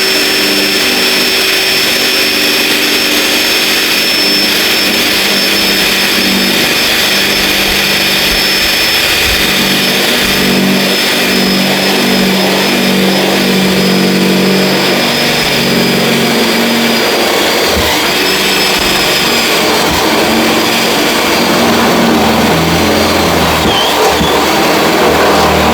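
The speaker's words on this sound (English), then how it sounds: "the unibit is really tough to get started, especially if I didn't do that pilot hole" A step drill bit (unibit) cutting a hole into the metal body of a Dodge RAM truck, a steady loud whine and grinding that runs throughout and varies a little in pitch as the bit bites, with no talk.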